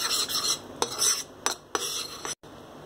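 Cocoa powder and butter stirred in a wok for a chocolate truffle cake, a spoon scraping and tapping the metal in quick repeated strokes with a faint sizzle beneath, close and without voices.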